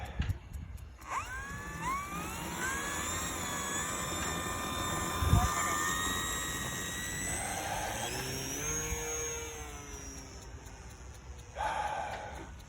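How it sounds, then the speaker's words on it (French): A model airplane's small engine whines at high pitch, rising and holding before takeoff at a quiet flying field, with a brief thump partway through and someone talking over it. "je vais décoller sans flap, ça va très bien quand on a de l'espace"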